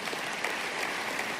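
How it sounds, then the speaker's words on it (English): A church congregation applauding, a dense and steady wash of many hands clapping at once, sustained and fairly loud without pause. "while his congregation applauded him"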